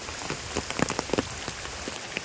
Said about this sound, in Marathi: बाहेर पडायचे वांदे आहेत कारण इतका पाऊस आहे ना